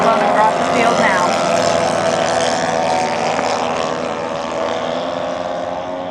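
Aircraft flying straight-line formation passes over the field at the Fox Valley Aero Club air show, a loud steady engine drone held throughout and easing slightly toward the end, with a commentator talking over it.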